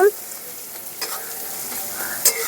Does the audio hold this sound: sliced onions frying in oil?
yes